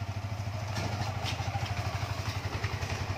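A motorcycle being loaded into a cargo hold at a shipping depot, its engine giving a steady low throb with a pulsing rhythm and light clattering over it, close by and continuous.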